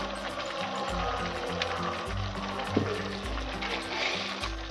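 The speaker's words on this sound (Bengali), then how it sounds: "এইভাবে ভালো করে মশলাটাকে কিন্তু কষাতে হবে" Masala spice paste for a soybean curry sautés in a pan with a constant loud sizzle and crackle over a pulsing low hum from the kitchen, with no talking.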